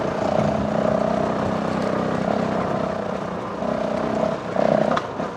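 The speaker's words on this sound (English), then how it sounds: "So can you hear the revs on the bike?" A Honda CRF450L motorcycle engine running on a rural trail in Hertfordshire, a steady moderate drone with slight rises in revs, close and continuous with no talk.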